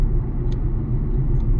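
A 2024 Honda Elevate accelerating at full throttle in sport mode: a steady, close engine rumble with low road roar, heard from inside the car with no voices.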